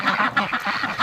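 Ducks give a rapid burst of nasal quacks, loud and close, several overlapping calls packed into about a second during a snowy outdoor scene.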